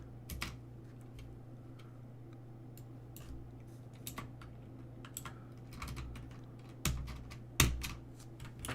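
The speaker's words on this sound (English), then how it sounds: "I love a mechanical keyboard" Clicky keystrokes on a mechanical keyboard come in scattered bursts, quiet and close, with a couple of sharper key hits near the end.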